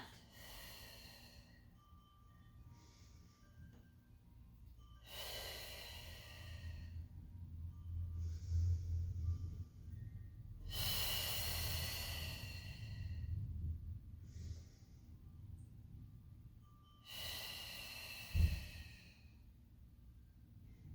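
Slow, deliberate exhales during a Pilates mat class, four long breathy gusts spaced several seconds apart, close and soft against a quiet room hum.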